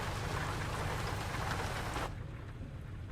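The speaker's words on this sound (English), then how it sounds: "I like that sound. I like that rain sound." Steady, dense rainfall in American Truck Simulator hisses loudly with a broadband patter, then abruptly drops to a duller, softer wash for the last second.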